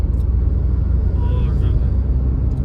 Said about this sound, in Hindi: तो गाड़ी थर्ड गियर में उठने लग रही है।